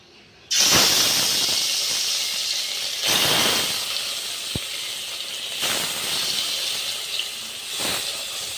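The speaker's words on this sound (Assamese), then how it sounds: "তেল দিলোঁ কেৰাহীত। এতিয়া মাছ কেইটুকুৰ দিম।" Pieces of fish going into hot oil in a wok give a loud, hissing sizzle that surges several times, in bursts a few seconds apart, and never drops to silence.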